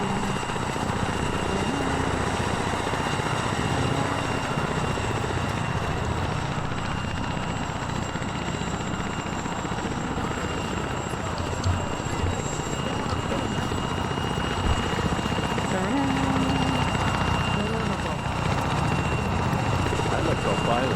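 Helicopter in the military video game ArmA, a continuous loud rotor and turbine drone holding steady throughout.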